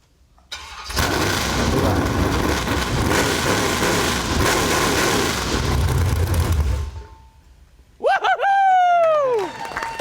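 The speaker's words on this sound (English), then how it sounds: "Chevy engine with all Edelbrock top end, and we got it running last night, and we're gonna let it hear it." A 1967 Chevy Nova's Chevy V8 with an Edelbrock top end and straight pipes fires up and roars loudly at a steady high rev for several seconds, drops off, then barks back with sharp revving blips.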